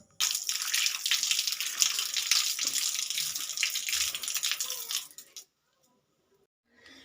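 Tap water running while a face is washed at a sink, a steady close gushing stream for about five seconds that then shuts off, leaving near silence.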